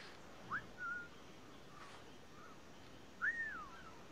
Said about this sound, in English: That bush keeps whistling at me.